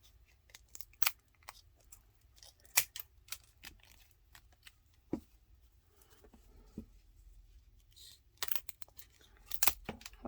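Quiet, irregular snips of scissors cutting, scattered clicks with short pauses, close by and without talk.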